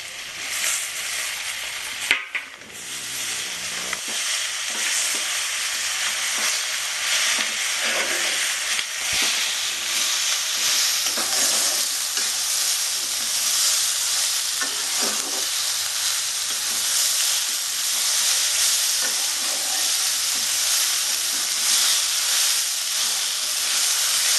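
Sliced okra (bhindi) and onion sizzle in a hot pan with a steady, dense hiss throughout. An occasional stirring scrape and a sharp clatter come near the start.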